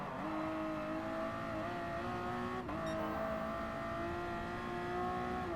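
Race car in Gran Turismo Sport during a Midship Challenge race, engine droning steadily near and loud with a brief shift dip midway, continuous high revving tone throughout.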